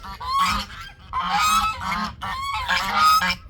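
Several geese honk loudly and close by in repeated bursts, their harsh calls overlapping with short pauses between.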